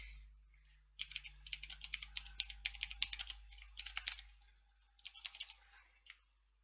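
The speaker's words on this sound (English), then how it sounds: "I push a button and it like registers that I've pressed it 3 times." Computer keyboard keys clatter in quick bursts of rapid clicks, close and distinct, with short pauses between flurries; the keyboard has been misfiring and registering repeated presses.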